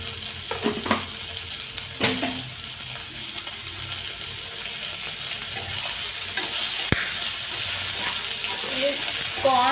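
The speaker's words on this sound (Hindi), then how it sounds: "ये कॉर्न जो है ये चट बजने लगे हैं" Corn kernels cooking in a pan give a continuous close sizzle with occasional sharp pops and stirring scrapes, and a quiet voice comes through briefly.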